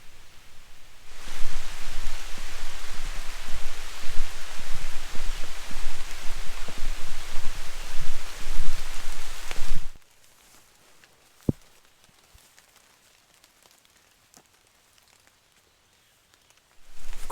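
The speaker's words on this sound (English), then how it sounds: "it slowly starts raining" Rain falls in a forest on a day hike along a trail as a dense, loud, steady hiss for about ten seconds, then cuts off to near quiet broken by a single sharp tap.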